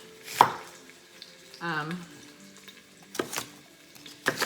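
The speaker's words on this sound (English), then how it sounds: "now I'm just going to roughly chop this onion enough to saute it" Knife roughly chopping an onion for potato soup, a few sharp, separate chops spread across the moment, each loud and close against a quiet background.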